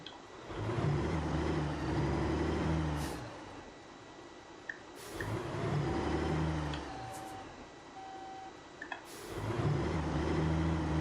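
A truck engine runs after the ignition comes on, a low rumbling drone that drops away briefly and then returns, with a few faint clicks between, near and steady with no talking.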